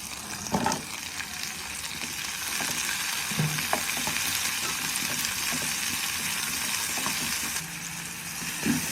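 Onions sizzling and softening in a pan for a homestyle chicken curry, a steady close frying hiss with occasional stirring scrapes and clinks, no voices.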